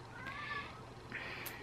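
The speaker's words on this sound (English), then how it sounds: "my cat's really being annoying." A house cat meows to be let into a room, giving two short, fairly quiet meows about a second apart with a faint high squeak at the end, no talking.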